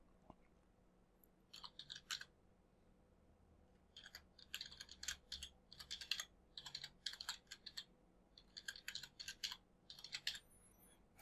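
Keys tapped on a computer keyboard while an email address is entered, in quiet bursts of rapid, light clicks separated by short pauses.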